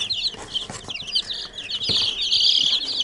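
Domestic chicks from a mixed flock cheep in a busy chorus of high, overlapping peeps, with soft rustling and bumps beneath them close by.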